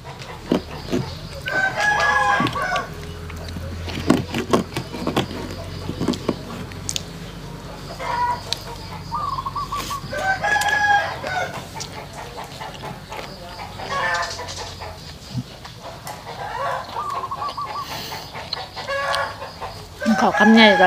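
Farmyard chickens cluck and a rooster crows repeatedly in a rural Thai setting, several bursts of calls near and far over a background of people talking quietly.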